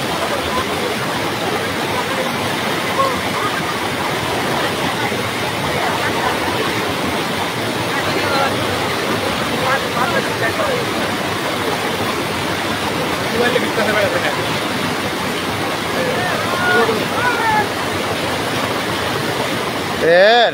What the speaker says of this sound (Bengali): পানি আরো বাড়তেছে।